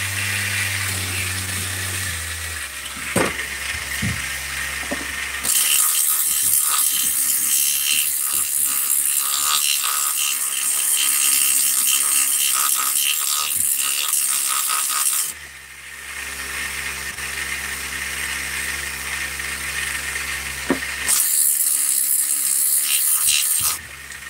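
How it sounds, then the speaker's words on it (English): Sandpaper rubs an aluminum-plated head in long, loud bursts of abrasive scratching, broken by short pauses. "As soon as you hit the plating with the sandpaper, sometimes the aluminum transfer just shows right up."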